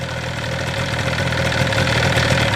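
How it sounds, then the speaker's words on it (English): A 1977 Yamaha RD400 motorcycle engine idles steadily up close with the headlight switched on, a continuous loud mechanical drone with no talking over it. "if the headlight's on, it idles and it drops the idle"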